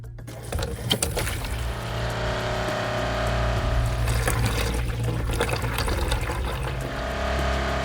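Water runs steadily from the kitchen taps aboard a narrowboat being checked for freeze damage, a continuous rushing flow over a low engine-like hum, close and fairly loud throughout.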